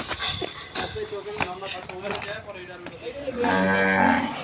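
A cow lets out a loud, drawn-out moo near the end, after a stretch of background voices and clattering, while being weighed on a scale at a cattle farm.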